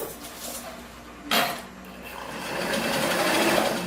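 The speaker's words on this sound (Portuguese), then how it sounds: "botar no ponto zigue-zague, volta lá o seu ponto pro 2, que é o ideal, 2 ou 3 para costurar, e a gente vai pregar o nosso acabamento." A sewing machine sews trim onto a gathered skirt with a zigzag stitch. A sharp clink comes first, then a steady close mechanical whir that builds toward the end.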